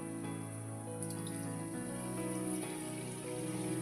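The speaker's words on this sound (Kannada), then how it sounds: "ಇದಕ್ಕೆ ನೀರಿನ ಭಾಳ ಹಾಕೊಳಕ್ಕೆ ಹೋಗ್ಬೇಡಿ ಹಂಗೆ ಮಾಡಿದ್ರೆ ನಡಿತೈತಿ ಸ್ವಲ್ಪ ಹಾಕೊತೇನೆ ನೋಡ್ರಿ ನಾನು" A small amount of water is poured into a pan holding jaggery for a North Karnataka village-style dish, giving a steady running splash for a few seconds over a constant background tone, with no talking.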